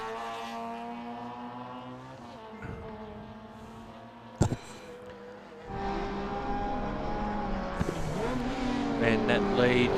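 A race car in an Improved Production race at Sydney Motorsport Park, its engine droning and rising as it accelerates, growing louder toward the end, with a commentator talking over it.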